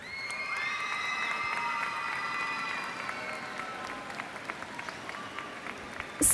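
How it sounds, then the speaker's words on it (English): Students at a school gathering give their teachers a round of applause. The clapping is dense, with cheering and children's shouts that hold strong and then thin into scattered claps and whoops. "students, if you'll give your teachers, your educators, and administrators here a round of applause"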